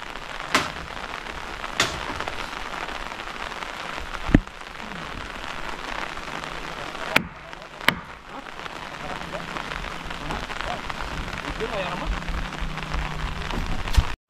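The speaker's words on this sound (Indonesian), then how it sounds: "Hujan." Steady rain hisses on surfaces at a building demolition and renovation site, loud and continuous, broken by several sharp knocks and bangs from the work.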